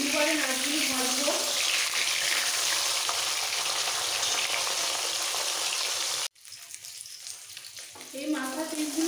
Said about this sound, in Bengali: মাছের মাথাগুলোকে খুব ভালো করে কড়া করে একটু ভেজে নিতে হবে।